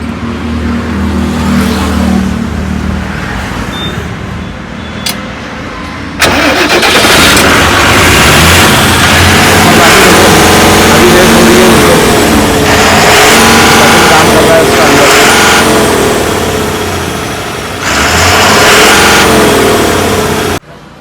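A Tata truck engine cranks and starts, then idles and revs loudly as the vehicle pulls away to get a puncture repaired, with people talking faintly.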